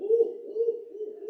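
A man imitates a barred owl call with his voice, producing a single sustained low hooting coo that wavers in pitch for over a second, close and clear with no other sounds.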